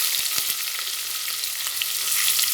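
Onions, mint and coriander sizzle loudly in a pan, with a steady dense hiss of hot oil and a few soft knocks of stirring near the start, and nobody speaks.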